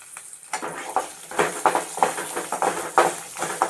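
Horse gram dry roasting in a pan, with a stirring spoon scraping and rattling the dry lentils against the metal in quick, irregular strokes, close and fairly loud, no voice.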